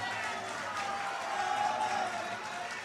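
Crowd applauding and clapping at an outdoor political rally in Anupgarh, Rajasthan, a steady, distant wash of hands that holds at an even level throughout without pause.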